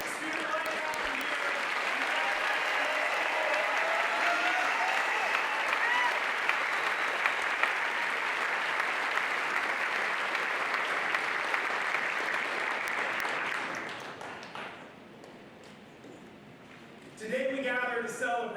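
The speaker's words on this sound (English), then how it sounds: "join me in giving a big round of applause" Graduation ceremony audience giving a big round of applause, a long dense sustained clapping from a large crowd that fades out near the end, followed by a voice speaking.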